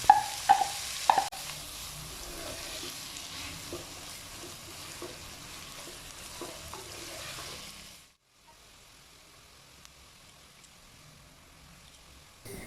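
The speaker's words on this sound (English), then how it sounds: "Adding 3 medium-sized onions, finely chopped." Finely chopped onions, three medium ones, sizzle and fry in a pan with a few clinks of stirring early on, a steady broadband hiss that cuts out abruptly partway through, leaving quiet low background.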